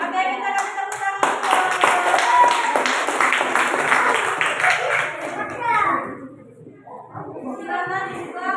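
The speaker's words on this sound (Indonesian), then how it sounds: "kita kasih tepuk tangan" Children in a classroom clap together in a loud, brisk burst of many hands that runs several seconds and then stops, with children's voices chattering over and after it.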